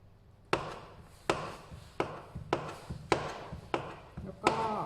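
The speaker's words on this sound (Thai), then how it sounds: "แล้วก็หั่นเป็น ชิ้นเล็กๆอีกรอบหนึ่งเพื่อที่จะให้ง่ายและสะดวกสำหรับใส่ลงในขวด" A knife chops a bar of soap into small pieces on a board, seven sharp evenly spaced cuts, close and crisp in an otherwise quiet room.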